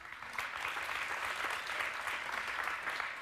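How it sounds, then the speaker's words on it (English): Light, steady applause from a studio audience on a daytime talk show, a soft even patter of clapping that stays low and continuous throughout. "The light applause is telling"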